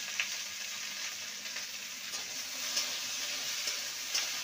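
Okra fries in mustard oil, giving a soft, steady sizzle close by with a few faint ticks and taps of stirring and no voices.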